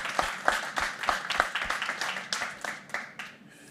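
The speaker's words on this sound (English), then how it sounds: "I think that deserves a round of applause." A scattered round of applause from a conference audience at Davos, with individual claps standing out in an uneven rhythm that gradually thins and fades toward the end.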